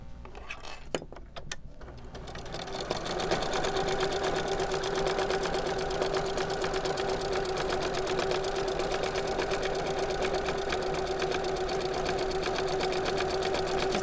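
A home sewing machine stitches a dogbone-shaped Christmas stocking: a few mechanical clicks, then a loud, close, continuous whirring run at an even pace throughout.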